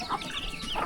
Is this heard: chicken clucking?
yes